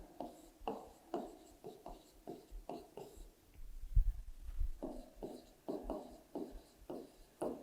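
Chalk writing numbers on a classroom board during a fourth-grade maths lesson, a steady run of short scratchy strokes in quick rhythm, fairly close, with a brief pause midway where low thumps and soft voice-like sounds come through.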